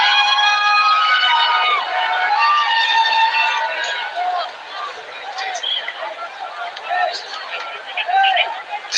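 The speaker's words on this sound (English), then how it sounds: "There goes the cheer and the roar in the stadium as well." A crowd cheers and roars in a cricket stadium during a Chitwan Rhinos versus Karnali Yaks match. Massed voices swell loudly at first, then ease into a livelier babble of shouts, with voices talking through it.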